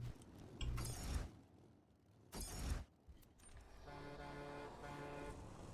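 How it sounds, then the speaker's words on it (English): A car horn honks in Borderlands 2 amid bursts of mechanical clatter, with a couple of loud blasts early on and a sustained tonal honk toward the end. "Honk."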